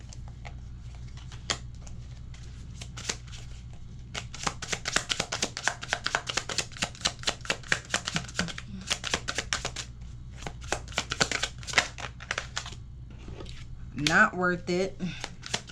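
Tarot cards being shuffled by hand in a steady run of crisp riffling flutters that come and go, with a person talking over and between them.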